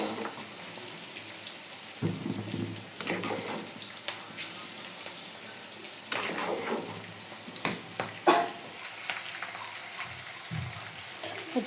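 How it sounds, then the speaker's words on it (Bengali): Boiled noodles fry in a pan with a continuous soft sizzle, punctuated by occasional clattering stirs and scrapes, moderately loud. "নুডলসটা এখানে আমি সিদ্ধ করে নিয়েছি, ভেজে নেব"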